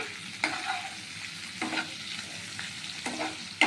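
Tiger prawns frying in mustard oil with ginger, onion and garlic paste, a soft steady sizzle broken by several sharp stirring scrapes in the pan, close and fairly quiet, no voices.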